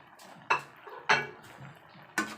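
A spoon scrapes and clinks against a pot three times while stirring pork adobo with fried potatoes, separated by quiet simmering, with no talking.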